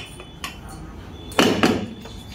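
A cooking pot is handled and set down near a gas stove in a home kitchen, giving a few brief metallic clanks and knocks, with a louder pair of clatters in the middle, close by and without talk.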